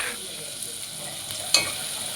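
A spoon stirs spices and salt through a pot, a soft scraping swirl with a small clink near the end, close and quiet with no voices.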